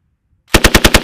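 After a moment of silence, a Marine machine gun on a range fires a short, loud, close burst of about six rapid, evenly spaced shots.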